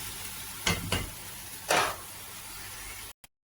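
Tomatoes sauté in a hot pan with a steady, close sizzle, broken by a few louder stirring scrapes before the sound cuts off abruptly near the end.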